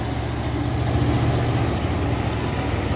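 Trucks climb a hill at Bukit Kodok, their heavy engines droning loud and steady with a low, continuous rumble and no talk.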